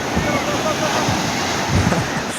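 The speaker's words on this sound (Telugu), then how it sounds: "ఆ సముద్రం ఎంత గొప్పదో చూడండి." Sea waves wash onto the shore at a beach on the Nellore coast near Thatichetlapalem, a steady, close broadband surf roar with slight wind buffeting on the microphone and a few louder surges.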